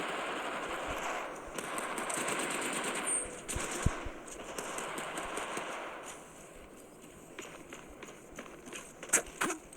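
Rapid bursts of gunfire from an enemy squad in the video game Apex Legends, with repeated automatic shots and sharp cracks at varying distances over a continuous noisy game soundscape.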